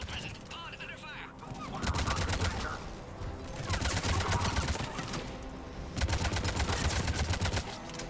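Gunfire in Mass Effect Legendary Edition, rapid automatic bursts crackling in repeated volleys, fairly close and mixed with other battle noise and voices talking.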